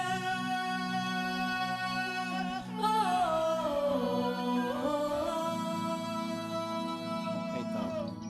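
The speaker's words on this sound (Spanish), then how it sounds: "apoyado con un coro MIDI y suena así" A synthesized MIDI choir sings sustained chorus backing vocals over a slow two-chord harmony, with layered harmonic voices that swell and glide in pitch midway through, steady and continuous with no talking.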